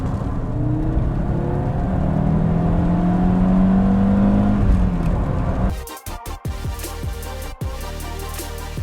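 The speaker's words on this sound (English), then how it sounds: "How does this thing redline? I suppose we should find out." Audi Coupe GT engine revving hard toward redline on a road drive after a full restoration, a loud sustained rising drone that cuts off abruptly into a few sharp clunks and quieter cabin noise.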